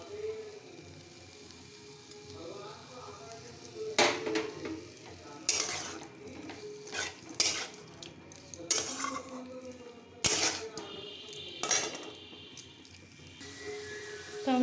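A soybean and potato curry with curry leaves being stir-fried in a pan, with scattered metal spoon scrapes, clinks and stirring knocks over a faint background sizzle.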